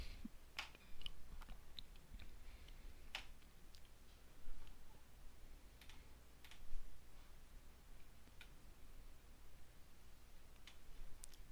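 Computer keyboard typing during a work session, sparse quiet key clicks and taps scattered irregularly over a faint background hiss, close but soft.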